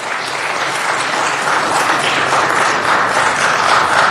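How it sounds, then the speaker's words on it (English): Applause from the audience at a city council meeting, a dense steady wash of many hands clapping together for several seconds with no talking over it. "Let's give him a round of applause and thank him for that."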